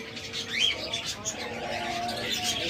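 A pair of sweet-voiced doves coos in soft, repeated low calls, with faint chirps and background chatter mixed in.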